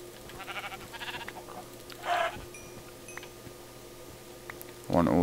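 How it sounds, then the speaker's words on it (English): Sheep in the video game Minecraft let out several short, faint bleats one after another, followed by a louder, closer bleat at the end, over quiet game ambience. "Oh yes, we have some sheep."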